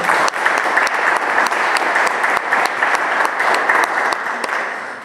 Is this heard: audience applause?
yes